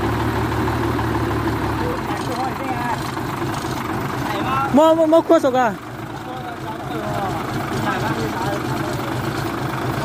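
A modified six-engine Hyundai log truck idles with a low, steady rumble, softening after a couple of seconds while people talk nearby and a brief squeal cuts in.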